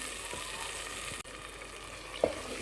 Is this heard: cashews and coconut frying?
yes